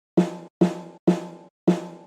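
A sampled instrument in Kontakt played through the Solid G-EQ vintage preset, four separate harmonic notes struck at a steady pace, each decaying quickly with a warm, rounded tone, heard alone and close.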